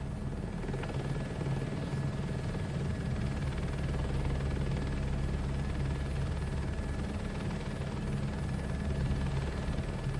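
Continuous droning helicopter rotor and engine noise in Microsoft Flight Simulator 2024, steady and loud throughout, with no voices.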